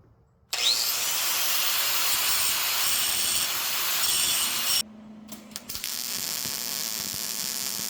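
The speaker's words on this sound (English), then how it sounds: "trying to grind it so that I can strike an arc again" An angle grinder works metal on a smoker build before welding, with a loud sustained hiss-like grind that cuts out briefly, then resumes more faintly with small scrapes.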